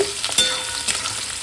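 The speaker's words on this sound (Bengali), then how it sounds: "এবার একটু আদা আর রসুনটা অল্প ভাজা ভাজা হবে তারপরে দিয়ে দেবো যাবে ক্যাপসিকাম ক্যাপসিকামটা হালকা ভেজে নেব" Ginger, garlic and capsicum fry on full flame, a bright continuous sizzle with a few scraping stirs of a spoon in the pan, close and fairly loud, no talking.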